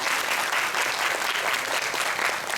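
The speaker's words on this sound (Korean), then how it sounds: "좀 이따 우리 박수 한번 쳐주세요." Church congregation applauding during a Sunday worship service, a sustained even wash of clapping from many people, moderately distant and steady from start to finish.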